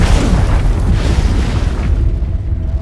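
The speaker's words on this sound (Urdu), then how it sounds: "دوپہر کے لگ بھگ 2 بجے ایک زبردست دھماکہ ہوتا ہے۔" A loud explosion effect depicts the 2010 Chilean mine blast: a deep, heavy boom that rumbles on for nearly three seconds and gradually thins out, with no voices over it.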